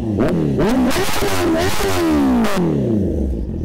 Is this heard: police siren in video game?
no